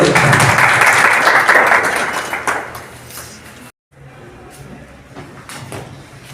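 Loud, dense audience applause at a felicitation ceremony in Deglur swells at first, then thins out over a few seconds, leaving a few faint scattered claps and room noise.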